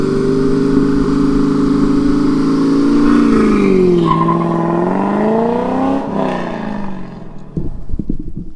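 Corvette launching from a standstill: a loud, close engine holding high revs, then sweeping down and up again before cutting off, with clattering mechanical noise after the drop.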